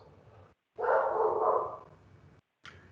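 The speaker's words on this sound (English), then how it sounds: "And I have to apologize for my dog." A dog barks in the background of an online discussion: one drawn-out, fairly loud bark lasting over a second, with a brief faint yip shortly after.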